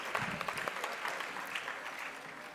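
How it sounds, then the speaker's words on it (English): An audience at a literature festival applauds the jury members with steady, moderately distant clapping that carries evenly through the clip. "big round of applause to both the jury members"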